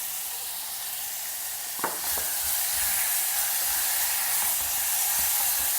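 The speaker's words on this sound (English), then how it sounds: "add in 1 dry red tomato chopped. Saute that also for a couple of minutes along with the onion" Chopped dry red tomato sautés with onion in a pan, a steady close hiss of sizzling with a couple of brief utensil taps and stirring sounds partway through, no talking.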